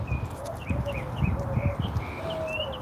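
Birds sing outdoors, repeated clear whistled chirps and short call notes from a few birds at moderate distance, over faint background rumble and occasional soft thumps.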